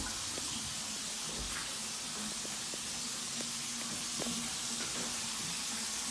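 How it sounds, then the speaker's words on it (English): A bathtub faucet runs water in a house, a steady, soft hiss of flowing water with faint ticks and drips, constant and moderately quiet throughout. "Bathtub seems to be working just fine."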